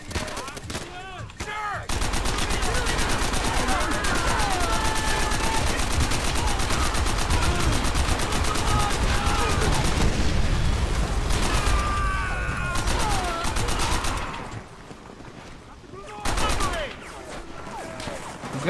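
Sustained machine gun fire in Call of Duty: World at War: a long, loud, rapid continuous burst with heavy rattling, with voices shouting over it and a short pause before firing resumes briefly.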